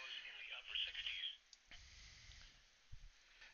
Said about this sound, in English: it automatically gets the radio signal back and it starts playing again